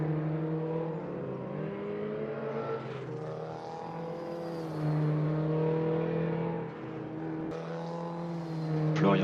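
Porsche 944 Cup race cars in the Raceroom Racing simulation on the Circuit de Charade. Engines whine at a sustained high pitch, rising and falling with gear changes as the cars race. One brief sharp shift comes near the end, with no talk heard.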